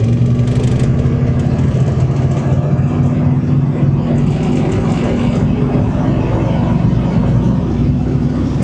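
A 1987 GMC Sierra 1500 pickup's engine rumbles steadily and loudly while accelerating, heard as a continuous low drone from inside the cab.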